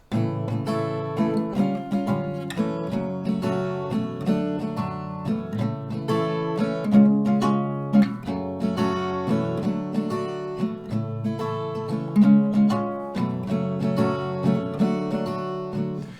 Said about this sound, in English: So you will play one strumming round per chord.